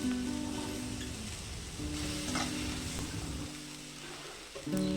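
Vegetables being fried in a pan for a healthy dalia tiffin: a continuous close sizzle and hiss throughout, with a faint steady hum beneath and a slight stir toward the end.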